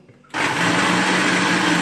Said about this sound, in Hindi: अब मैं इनको ऐड करने के बाद 1 मरतबा ब्लेंडर को चलाऊंगी।